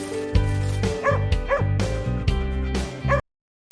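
Animated origami dog effect in Viddyoze: a run of close, loud, bright yips and barks with whimpering tones, cut off abruptly near the end.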